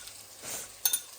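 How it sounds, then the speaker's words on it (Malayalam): Chili powder and spice mix are stirred in a pan for salmon curry, with a soft hiss of frying and a couple of quick scrapes from the spoon, close and brief. "മുളക് പൊടിയും ഈ പൊടികളുടെയൊക്കെ പച്ചമണം മാറുന്നത് വരെ നമ്മൾ ഇളക്കി കൊടുക്കുക."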